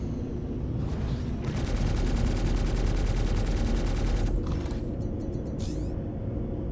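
Gimbaled ship weapons in Star Citizen fire a sustained, dense burst of rapid automatic shots for about three seconds, loud and close, with lighter bursts and engine rumble before and after.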